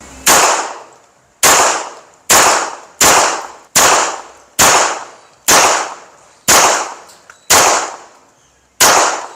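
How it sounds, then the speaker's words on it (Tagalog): Ten sharp gunshots from an STI Executive .40 caliber pistol ring out at a steady pace, each a loud crack with a short echoing decay, close by. "gagamit tayo nitong STI Executive 40 caliber. Shoot ulit tayo ng 10 rounds doon."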